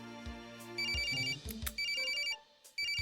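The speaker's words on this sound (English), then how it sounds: "That's a phone?" A phone rings in Ace Attorney: Spirit of Justice, playing a tonal electronic ringtone in repeated bursts with short gaps, clear and upfront with no voices.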